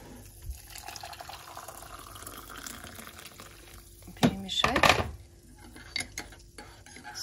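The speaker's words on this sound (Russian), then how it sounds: "Кипяток." Boiling water is poured into a pot in a home kitchen during holiday cooking, a short gushing splash mixed with clinking dishes, beneath quiet talk and kitchen noise.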